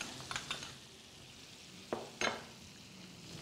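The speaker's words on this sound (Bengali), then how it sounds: "এটা ভাজা হতে থাকুক" Fish frying in a pan for sweet and sour fish, a soft continuous sizzle with a few sharp crackles and spatters standing out, close and fairly quiet.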